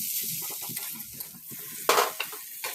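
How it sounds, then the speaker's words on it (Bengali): Masala of turmeric, chili paste, coriander powder and cumin paste fried and stirred in a pan, with low sizzling, scraping spoon strokes and a few louder clanks near the end, close and without talk. "ধনে গুঁড়ো, জিরে বাটা দিয়ে মশলাটা কষবো।"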